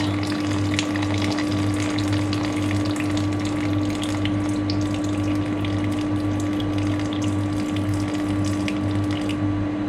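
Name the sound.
pouring about 250 of boiled water onto flour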